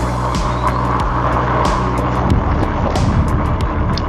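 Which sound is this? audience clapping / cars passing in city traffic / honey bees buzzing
cars passing in city traffic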